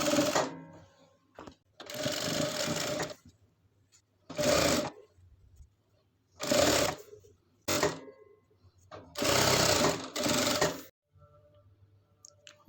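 A sewing machine stitches lace onto a dress sleeve in repeated short runs of a few seconds each, loud and close, with brief quiet gaps between bursts.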